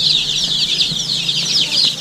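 A group of Arab chickens clucking continuously at close range, many overlapping high-pitched calls forming a busy chatter with no talking.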